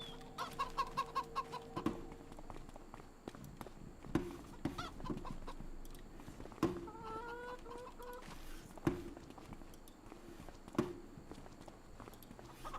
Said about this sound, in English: let me come on down to the chickens